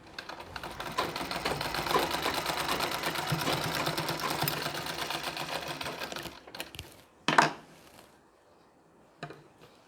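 A sewing machine stitches a Nauvari saree in a steady, close, rapid whirring run for about six seconds, then stops, followed by a couple of brief knocks and quiet.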